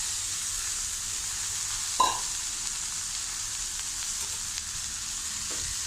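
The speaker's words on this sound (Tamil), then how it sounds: "கொட்டி நல்லா கிளறி வைக்கணும்." Beans and cooked bengal gram being stirred in a frying pan, a steady soft sizzle running throughout with one brief sharper scrape of the spoon near the middle and a few faint clinks later.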